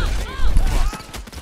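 Gunfire in Payday 2 crackles in a short burst of shots beneath an excited player's voice talking over the action.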